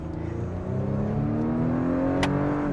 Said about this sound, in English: for a 4-cylinder, man, it's got a nice little sound to it.